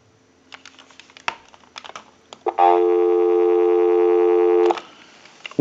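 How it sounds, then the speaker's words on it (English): A few quick clicks and taps on an ITT rotary dial Trimline telephone, then a steady dial tone hums loudly for about two seconds before cutting off abruptly. "Give you some dial tone."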